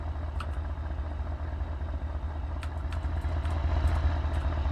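Lada fitted with a small-block Chevy V8 idles in the BeamNG driving game, a steady low, throbbing engine rumble throughout with a few faint clicks and ticks over the top.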